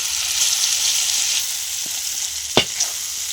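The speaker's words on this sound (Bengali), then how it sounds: "তো মটরশুঁটি আমি পেস্ট বানিয়ে নিয়েছি ওটা ভালো করে কষে নেব" Green pea paste fries in oil with black cumin and carom seeds in a wok, giving a steady bright sizzle with a couple of sharp spatula scrapes near the end.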